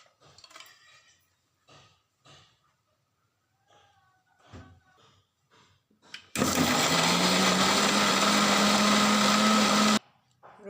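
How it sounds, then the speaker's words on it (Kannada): A mixer grinder loudly whirs for about four seconds, grinding fried ingredients and grated coconut for a home-cooked dish. A person talks briefly before it starts. "ಈಗ ಇದನ್ನು ಮಿಕ್ಸಿಗೆ ಹಾಕಿ ರುಬ್ಬುವ."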